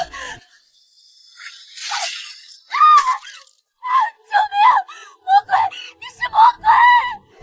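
A woman lets out a series of anguished, wailing screams in a dramatized confrontation scene, loud, broken into short bursts after a sharp breathy onset, with voice-like sounds mixed in.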